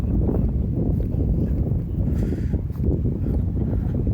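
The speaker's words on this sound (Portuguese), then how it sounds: "O vento tá forte, hein, rapaziada." Strong wind gusting steadily across an outdoor microphone on a cold Saturday, a dense, loud low rumble that persists for the whole stretch with only brief dips and no voices.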